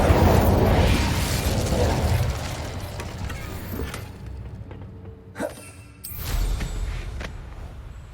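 The Incendio fire spell cast in Hogwarts Legacy, a dense roaring whoosh of flame that fades away, followed by a sharp pop and a second rumbling burst, with no talk.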